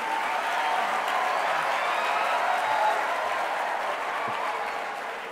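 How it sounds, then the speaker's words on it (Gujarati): Audience applause for teachers at a Sanjay Raval motivational talk: dense, steady clapping from a large crowd, sustained evenly throughout and fading slightly at the end. "એકવાર તાળીઓ માટે, શિક્ષકો માટે પણ તાળીઓ આપીએ"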